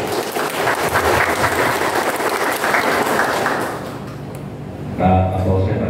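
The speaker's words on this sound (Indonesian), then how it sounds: "Tepuk tangan." A crowd claps loudly and steadily for several seconds at a 2024 Cilacap election security assembly, then the applause fades and a voice begins speaking.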